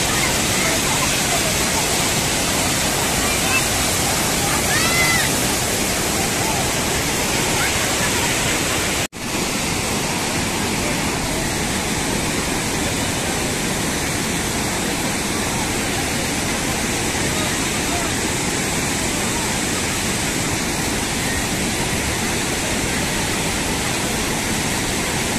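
Water overflowing from the Srinivasa Sagara dam reservoir in Chikaballapur, a loud, continuous roaring rush like a waterfall that carries on throughout with only a brief dip near the middle.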